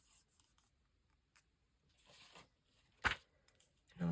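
Paper ephemera for a master board is trimmed by hand, heard as quiet, close rustling and rubbing with one sharp snip or cut partway through, and no talking.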